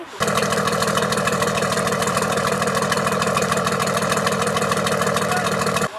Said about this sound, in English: This has the Detroit 671 engine in it, made by Gray Marine.